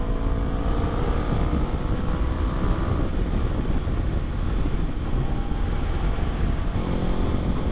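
A Kawasaki Ninja ZX6R motorcycle ridden on a hot day produces a continuous engine drone, largely buried under heavy, steady wind rush across the microphone.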